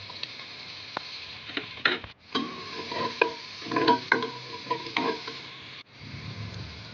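Garlic frying in a pan with onions for chicken curry, low sizzling under repeated spoon scrapes and taps against the pan, close, with brief pauses.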